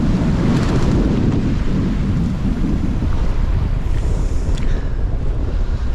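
Strong westerly wind roars steadily across the microphone on a sailboat heading close to the wind along a coastline, with a continuous loud rush and buffeting low rumble, and faint water and hull noise beneath.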